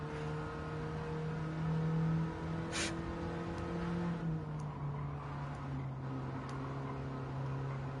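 A Mini's engine drones steadily as the car accelerates in a racing video game, a held, slightly rising hum with a brief high whine partway through, fairly quiet and without voices.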